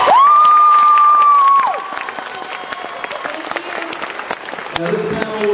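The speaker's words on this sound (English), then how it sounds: "I'd like to give him a round of applause for these amazing guests" Convention audience applauding guests at an animation panel, a steady patter of clapping and some cheering that follows a loud sustained tone at the start, continuing under a fairly even crowd noise.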